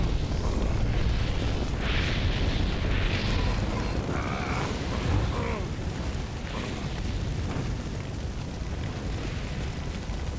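A fire spell blasting in the fantasy role-playing game Gothic 3, a roaring, rumbling eruption of flame with crackling bursts, dense and loud throughout, with a few faint cries mixed in.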